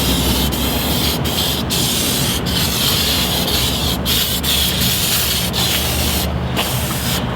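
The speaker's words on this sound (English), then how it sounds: "I like to spray it on kind of thick, so that way it gets in all the little cracks" Protectant dressing sprayed onto a Jeep undercarriage, a loud continuous aerosol hiss with brief breaks between bursts, close up and with no voices.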